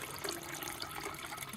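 Filtered water pouring steadily into a container, a faint, brief, even rushing trickle with no voices.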